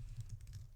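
Quick, faint keystrokes on a computer keyboard while entering code into a programming editor, a short run of soft clicks over a low background hum.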